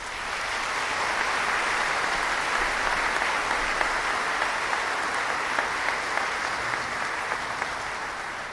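Steady, dense applause from a large audience at the 2019 Triway High School graduation ceremony, holding at an even level for the full stretch with no talking over it.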